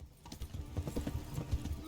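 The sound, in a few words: horse hooves galloping in the video game Kingdom Come: Deliverance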